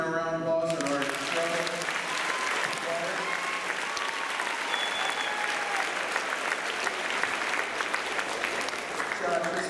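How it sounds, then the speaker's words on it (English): At a middle school Veterans Day assembly, a large student crowd breaks into sustained, dense applause just as a short musical note from the school band dies away. The clapping stays loud and steady throughout. "Wildcat crowds, give them a round of applause"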